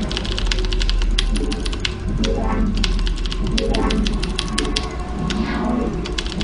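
Rapid, clicky typing on a Leopold FC750R tenkeyless mechanical keyboard with blue switches runs steadily throughout, with a person talking over the keystrokes.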